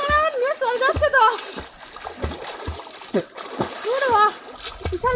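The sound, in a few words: big river waves splashing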